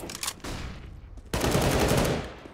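Gunfire in Counter-Strike on the Overpass map during a competitive 5v5 match, with a burst of shots, a short lull, then a louder, sustained stretch of rapid firing and game noise.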